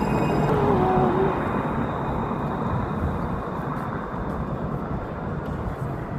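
A Luas light rail tram in Dublin rumbling past close by, a steady broad roar with a faint squeal early on.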